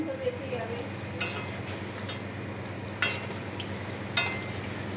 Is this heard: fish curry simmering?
yes